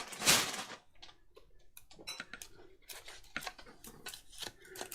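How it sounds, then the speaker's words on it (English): Scissors snipping at sellotape during junk journaling, with one loud close cut at the start and then a run of small, sharp clicks and taps, and no voice. "Doesn't want to cut this sellotape."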